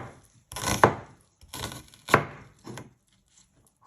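A knife chopping through an onion on a cutting board, with several separate crisp cuts at an uneven pace, close and alone without talking.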